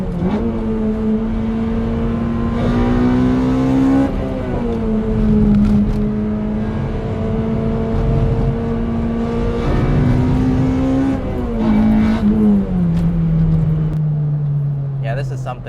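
A K20-swapped Toyota MR2 Spyder drives through mountain-road corners, its engine droning steadily from inside the cabin, the pitch rising and falling as it accelerates and lifts off, with someone talking over it.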